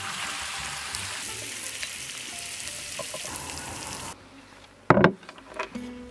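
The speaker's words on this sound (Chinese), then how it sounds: "加入切好辣子洋葱，来点盐、姜粉、鸡精，炒炒出锅" Chili peppers and onion stir-frying in a wok give a steady close sizzle for several seconds, then it drops away and a few sharp clanks and scrapes of a spatula follow.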